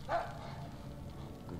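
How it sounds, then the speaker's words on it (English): A single short dog bark from the Mad Max video game, heard early and fairly close, followed by quiet ambient game sound. "Good dog."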